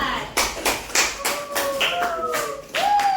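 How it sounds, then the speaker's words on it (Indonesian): A classroom of students gives scattered applause for a group of classmates, with a handful of separate claps spaced out over a few seconds while voices talk alongside. "Tepuk tangan dulu untuk kelompok 4"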